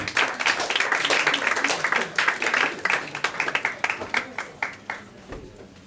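An audience claps at a book launch event, a dense round of applause that thins into scattered individual claps before fading out.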